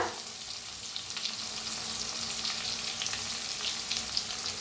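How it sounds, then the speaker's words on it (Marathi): Finely chopped onion and ginger-garlic paste fry in oil with mustard seeds, cumin and asafoetida in a pan. A steady, moderately faint sizzle continues throughout without talking. "मिक्स करून भाजून घेऊया"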